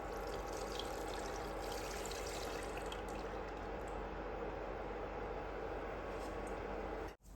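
Boiled milk poured steadily into a bowl, a continuous close liquid pour that runs evenly and then stops abruptly at the end.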